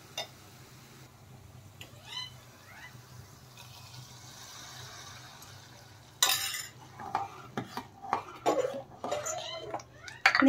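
Tempering stirred into sambar made with arhar dal in a pot: a quiet stretch, then spoon clatters and scrapes against the vessel in uneven bursts that grow busier toward the end.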